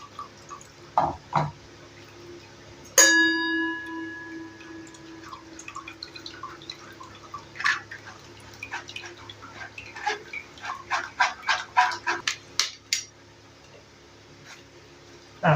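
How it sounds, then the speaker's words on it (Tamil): Blended drumstick leaf soup drips and trickles through a strainer in irregular, close plinks and splashes, with one sharp ringing clink of metal near the start and no talk. "இப்போ இதை நம்ம வடிகட்டிக்கலாம்."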